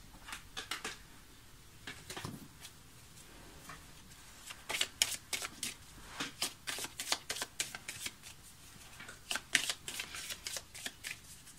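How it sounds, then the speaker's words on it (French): Oracle cards are gathered up after being dropped, with quiet shuffling, flicking and tapping of card stock in irregular clusters, some sharper snaps mid-way, all close and soft. "Oups là, il y a tout qui tombe, je vais ramasser décidément, ça m'arrive quand même très souvent ces cartes qui sautent."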